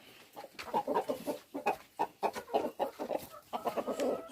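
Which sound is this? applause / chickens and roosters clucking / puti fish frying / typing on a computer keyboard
chickens and roosters clucking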